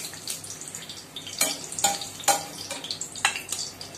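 Pieces of food frying in hot oil in the same pan used for eggs, a steady close sizzle with bursts of spattering crackle and a few sharp pops.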